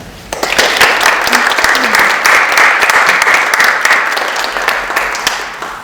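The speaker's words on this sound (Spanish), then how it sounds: "Les pido un fuerte aplauso para ellas" Strong, dense applause from a seated audience at a humanities talk rises sharply and holds for several seconds, close and full, tapering slightly near the end.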